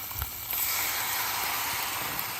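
Sharp hiss and sizzle as water hits a hot pan of stuffed peppers, a steady broadband fizz that swells after a brief start and holds loud and close.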